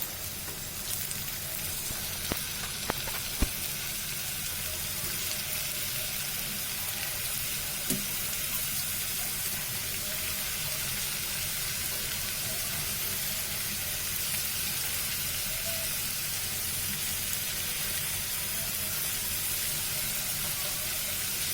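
French fries frying in hot oil in a small wok, a steady dense sizzle that holds evenly throughout with a few faint clicks, close and moderately loud with no talking.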